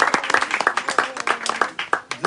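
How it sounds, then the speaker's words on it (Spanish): In a church, a congregation claps close by in uneven, loud individual slaps that form a brisk, rhythmic patter of scattered hands. "¿Cuántos le pueden dar un aplauso al Señor?"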